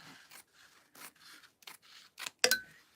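Scissors snipping excess card or fabric: a series of about seven crisp, close cuts at a steady pace, ending with a sharper final snap, quiet and without voices.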